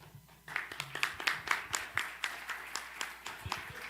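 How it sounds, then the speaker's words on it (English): A small audience at a Community Democratic Club forum applauds for Ms. Johnson, with a steady run of close, sharp individual claps lasting a few seconds at moderate volume. "round of applause for Ms. Johnson"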